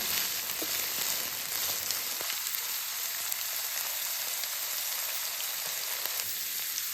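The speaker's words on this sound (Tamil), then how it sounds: "கொடமிளகாவை இந்த மாதிரி எண்ணெயில் வதக்கி எடுத்துக்கலாம்" Capsicum sautéing in oil sends up a dense, steady hiss of frying that continues without a break.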